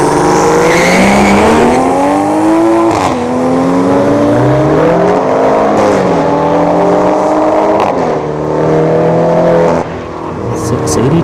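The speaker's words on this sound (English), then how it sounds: "For the A90 Supra, aka BMW Supra." A90 Toyota Supra making a drag racing run at a dragstrip, its engine loud and close, rising and falling in pitch through repeated gear changes across the run, with no talk over it.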